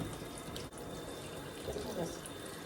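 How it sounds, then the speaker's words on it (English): Tap water running steadily into a bucket as it is rinsed out, a continuous close splashing rush with faint drips and sloshes near the end. "So we're gonna rinse out the bucket here."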